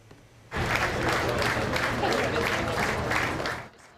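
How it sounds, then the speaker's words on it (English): Outgoing Joint Chiefs chairman Mark Milley gets a clap-out as he leaves the Pentagon for the last time. A burst of dense applause starts abruptly, holds steady for about three seconds and then fades. "Outgoing U.S. Chairman of the Joint Chiefs of Staff, Mark Milley, received a clap-out Thursday as he left the Pentagon for the final time"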